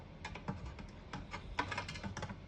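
Typing on a 1966 Olivetti Underwood 21 portable typewriter: a close, irregular run of sharp mechanical key strikes, some louder than others, over a faint background hum.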